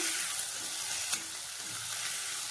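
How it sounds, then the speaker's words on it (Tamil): Tomatoes and coriander leaves sautéing in a pan for tomato garlic chutney, a dense, even sizzle close up with a small stir clatter midway. "தக்காளி அடுத்த மல்லி இலையும் சேர்த்துக்கிறேன் சேர்த்துட்டு நல்லா வதக்கிக்கணும்"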